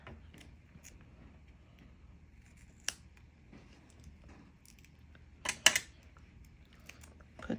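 Scissors snip through a piece of foam in a quiet craft setting, a few sharp isolated cuts with the loudest pair near the end, close and alone without talk.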